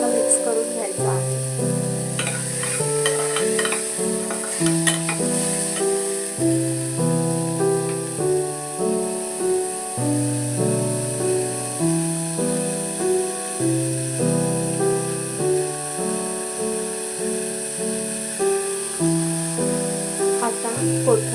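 Khichdi mixture fries in a pan and is stirred steadily, making a continuous sizzle and hiss with a regular rhythm of scraping strokes that repeats for about twenty seconds under a background of tonal sound.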